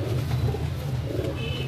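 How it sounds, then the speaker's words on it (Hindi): Rampuri pigeon cooing, a low continuous throaty rumble close up with a few softer swells, no voices over it. "ये रामपुरी कबूतर है जी।"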